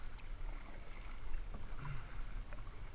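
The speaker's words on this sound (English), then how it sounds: "I am using a feathered paddle stroke, 60 degrees in my Aquabound Stingray, 240 centimeters" A Feel Free Lure 13.5 kayak gliding on open water, driven by 60-degree feathered strokes of a 240 cm Aquabound Stingray paddle; soft watery swishes and drips sit under faint wind rumble, close and quiet.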